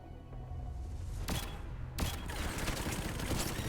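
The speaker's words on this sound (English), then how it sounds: "Oh yeah, sticky bomb gun." Sticky bomb gun fired in the video game Mass Effect, a burst of loud sharp gunfire cracks with a heavier blast partway through, dense and close, over constant game background noise.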